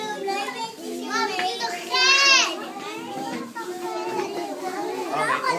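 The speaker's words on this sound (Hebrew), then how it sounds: "יש ילדים שעושים קצת רעש" Children play and shout noisily at an upsherin gathering, high excited voices overlapping in bursts, one rising squeal standing out, loud and close throughout.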